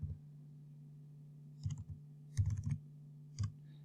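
Typing on a computer keyboard comes as a few short bursts of close key clicks with pauses between them, over a steady low electrical hum.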